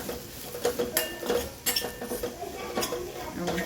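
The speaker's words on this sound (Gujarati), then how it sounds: "ખાંડ એડ કરી દઈશું અને ગાંઠિયાનો ભૂકો સરસ મિક્સ કરી લઈએ." Sugar being mixed into crushed gathiya crumbs in a bowl, with irregular clinks and scrapes of a spoon against the dish in short bursts.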